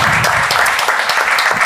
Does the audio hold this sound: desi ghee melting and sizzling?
no